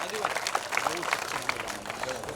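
Audience applause at a religious memorial festival gathering, a brief, fairly faint patter of clapping hands mixed with a voice speaking over it.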